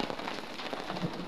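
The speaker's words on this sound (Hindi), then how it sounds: "इतनी तेज़ बारिश हो रही है।" Heavy rain pours down steadily in a dense, continuous hiss of drops striking surfaces, close and even throughout, with no voices over it.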